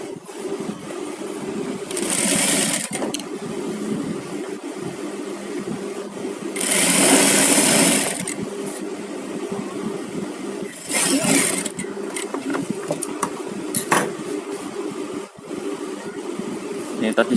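A sewing machine stitches a garment's button placket, running loudly in several bursts of a few seconds each, with someone speaking between and over the runs.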